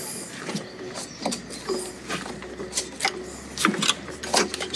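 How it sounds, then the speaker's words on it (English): A Land Cruiser 80 with the 1HD-T diesel engine is turned over after a timing belt change, giving a string of irregular mechanical clicks and knocks over a low steady hum. "Turning the engine."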